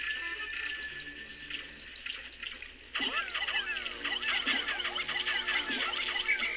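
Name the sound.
Pikmin moving into pool water in Pikmin video game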